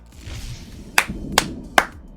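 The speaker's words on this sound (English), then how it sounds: "I gotta give them a clap on this." A streamer claps their hands four times in quick, evenly spaced succession; the sharp, close claps stand out over a quiet background hum.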